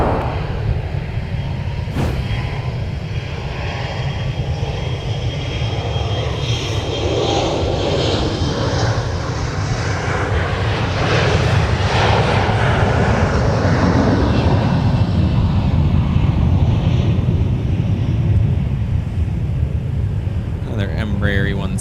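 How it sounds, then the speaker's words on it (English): Embraer 175 LR regional jet of SkyWest departing the airport, a loud sustained engine roar that swells and holds steady throughout, with a voice talking over it. "Embraer 175 LR for SkyWest, headed out to Omaha, Nebraska"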